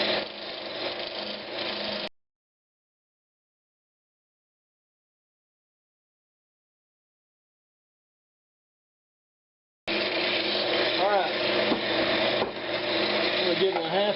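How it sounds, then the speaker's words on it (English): A roughing gouge cuts a spinning Brazilian cherry blank on a wood lathe, turning it into a cylinder: a steady rumbling, scraping drone for two seconds, a long silence, then the drone resumes. "I'm gonna turn this down into a cylinder"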